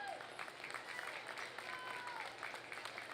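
Steady applause from a crowd for children at a junior breeding gilt show, a continuous patter of clapping filling the arena at moderate distance with no voices over it.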